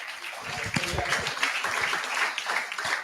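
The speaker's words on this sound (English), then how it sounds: "let's clap together for him" Applause from an audience at a student presentation practice session, a dense steady patter of many hands clapping together, fairly loud and continuous with a faint voice underneath.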